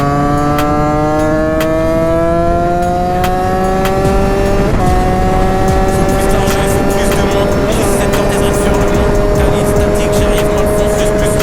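A car passes nearby, its engine tone sweeping steadily across the clip, loud and continuous with broad road noise and no voices.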